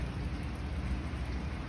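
Steady rain pours down outdoors, heard from under a sheltered cover, with a low rumble that could be distant thunder; a continuous dense wash with no voices.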